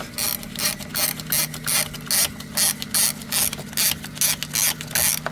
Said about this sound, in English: Now there goes the compressor.